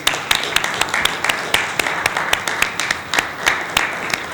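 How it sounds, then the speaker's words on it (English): Applause from an audience in the Swedish Parliament after a talk on Ronald Reagan, with sharp individual claps standing out over steady clapping that stays moderately loud and continuous throughout. "and applause."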